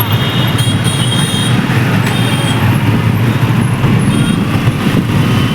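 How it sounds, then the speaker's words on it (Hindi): Dense roadway noise from a traffic jam on a crowded road with trucks and buses, a steady loud engine rumble with occasional air-brake hisses throughout, during a crowded celebration event in Dehradun. "दोनों तरफ पूरे जो है भाई रोड जाम हो रखी है।"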